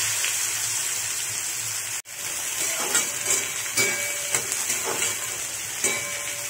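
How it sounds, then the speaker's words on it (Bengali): Cumin seeds sizzle in hot oil in a wok, a dense steady crackling hiss close by, with a sudden brief dropout near the start and faint stirring clicks after. "কড়াইতে তেল গরম হয়ে গেছে, এর মধ্যে আমি সাদা জিরে দিলাম।"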